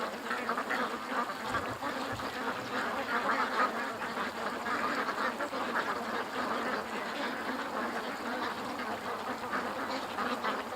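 A dense chorus of ducks quacks continuously at a distance, many calls overlapping into a steady chattering din.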